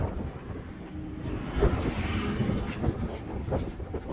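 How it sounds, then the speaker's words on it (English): A portable generator runs outdoors in icy, snowy conditions, giving a steady rough engine rumble mixed with wind buffeting the microphone, continuous and fairly close. "So I've sparked up the generator."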